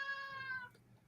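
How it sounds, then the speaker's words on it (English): A cat gives a single clear, drawn-out meow close by, with a steady tone that fades out near the end, followed by quiet room noise. "as the cat said hi"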